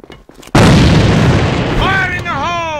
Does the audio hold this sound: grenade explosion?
yes